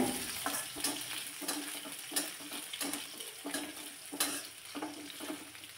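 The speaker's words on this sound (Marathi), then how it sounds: "चिरलेला कांदा यामध्ये घालायचा।" Thinly sliced onion sizzles with curry leaves in a pan over a low flame, a continuous close crackle broken by regular scraping strokes of a spoon, with no talk.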